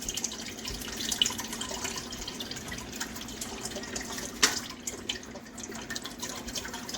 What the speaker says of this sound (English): We're going to pour in our can of coconut milk